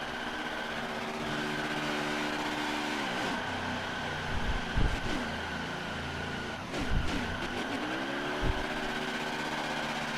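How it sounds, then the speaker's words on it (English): A race car revving through a burnout in NASCAR Heat 4 at Talladega, a steady high engine drone with several sharp rev swoops rising and falling, loud and close. "One more little burnout."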